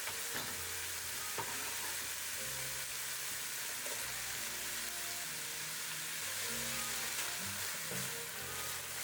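Minced chorizo with chopped onions sautés in a pan, a steady close sizzle running throughout with the scrape and clink of stirring layered over it.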